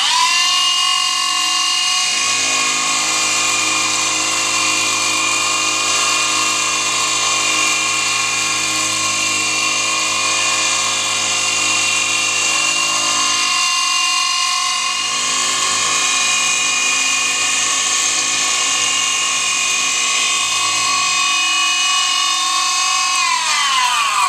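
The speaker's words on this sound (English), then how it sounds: "with the RPMs up a little bit higher yet, I'm doing a very quick cleanup pass now" Machine cutting a cog belt wheel for a woodworking bandsaw repair, running at higher RPM for a quick cleanup pass, a loud continuous high-pitched whine with steady tone and slight load changes throughout.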